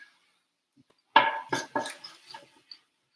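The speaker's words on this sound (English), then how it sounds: "I have to stir this again." A spoon scrapes and knocks through a roux being stirred in a pot for gumbo. There are three or four close clattering strokes after a quiet start, then softer scraping that fades out.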